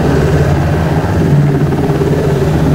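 A UH-60 Black Hawk helicopter in Flight Simulator X, a loud, steady rotor and turbine drone with a low rhythmic thump, continuous and close with no talk.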